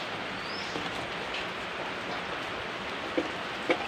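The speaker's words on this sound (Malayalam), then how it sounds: "നല്ല മഴയാണ്" Heavy rain pours steadily in a continuous broadband roar, with a couple of sharper drips or knocks near the end.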